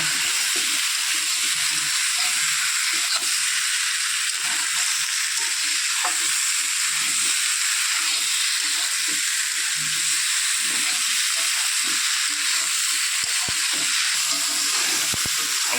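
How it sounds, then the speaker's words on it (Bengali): Pumpkin and boiled potato pieces fry in a pan with a loud, steady hiss and sizzle that runs throughout, broken by occasional light stirring and no voices. "এতে আমি এই যে সিদ্ধ করে রাখা আলুটাও দিয়ে একটু ভাজা ভাজা করে নেব"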